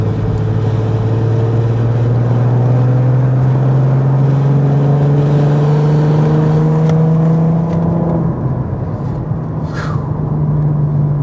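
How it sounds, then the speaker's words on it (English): An Infiniti Q50 fitted with a Megan Racing Y-pipe drives along, its engine droning loudly with a steadily rising tone as it accelerates, then easing off near the end, heard close from inside the car. "Q50 is moving."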